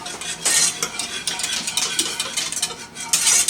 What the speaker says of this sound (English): so we got to constantly be stirring it